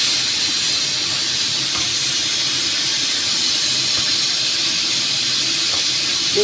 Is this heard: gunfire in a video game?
no